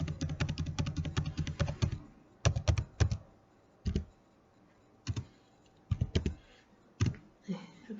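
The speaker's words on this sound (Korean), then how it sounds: "기타 정보에 면장 번호를 입력해 볼게요." Fingers type a number on a computer keyboard up close, a quick run of clicky keystrokes followed by sparser isolated taps and short bursts, with quiet pauses between them.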